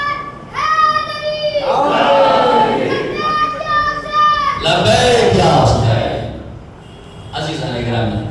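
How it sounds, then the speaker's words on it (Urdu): Children stand and chant slogans in unison at a Muharram majlis gathering in Thana Bhawan, with loud, sustained, pitched group shouts rising and breaking in waves over several seconds and a crowd murmuring underneath. "جب نعرے لگائے گئے بچے کھڑے ہو کے لگائے گئے"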